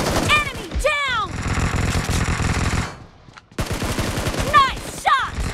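Automatic gunfire in the BGMI battle royale video game, dense rapid bursts with a brief silent gap midway, mixed with game voice callouts and other tonal game effects.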